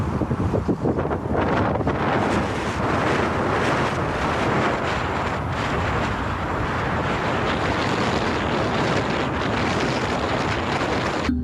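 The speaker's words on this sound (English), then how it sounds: "All I can hear is just the wind that's persistent on this microphone and my hearing aid." Strong wind buffeting a microphone out in a countryside field; loud, continuous rumbling roar with gusty fluctuations filling the whole stretch, no speech.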